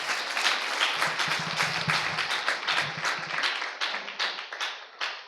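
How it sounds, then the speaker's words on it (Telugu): A worship congregation claps hands together in a dense, steady burst of rhythmic applause that carries on throughout, with a faint voice beneath it. "చప్పట్లు కొట్టి దేవుని మహిమపరచండి."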